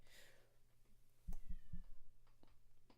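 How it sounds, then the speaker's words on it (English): A faint, distant cat meows a few short times over a low background hum, with no talking. "There's a cat meowing."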